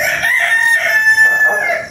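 Rooster crowing nearby outdoors: one long, loud, drawn-out crow filling the moment, with no talk over it.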